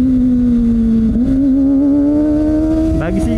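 A Kawasaki ZX25R motorcycle fitted with a Yoshimura R-11 exhaust holds a steady, loud high-pitched engine drone while riding, with a brief blip of throttle near the end.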